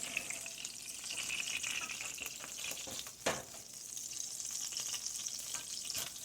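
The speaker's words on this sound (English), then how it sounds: "the salmon patties are cooking nicely" Salmon patties fry in a pan with a steady, close sizzle that continues without pause, broken by one brief louder clatter partway through.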